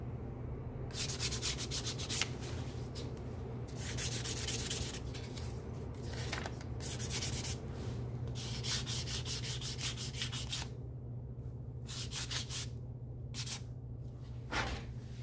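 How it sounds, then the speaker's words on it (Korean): 400-grit sandpaper rubs a leather bag edge in fast, close back-and-forth strokes, a dense rhythmic scratching that runs almost continuously with brief pauses, with no talking. "사포로 400방 정도로 면을 일단 다듬어줘요."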